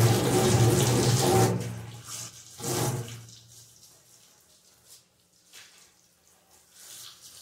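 Water is poured and splashed across a kitchen floor during a thorough house cleaning, a loud rushing gush at first, then a second splash and trailing drips and trickles fading out, with no talk.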